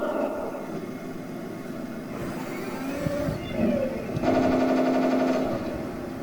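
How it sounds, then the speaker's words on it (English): A Heng Long RC tank plays its electronic turbine engine sound effect, a faint low rumble that rises into a steady, high whining tone near the end. "It has two different engine sounds,"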